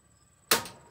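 An RV stove burner igniter fires once, giving a single sharp, close click that fades quickly after a quiet moment.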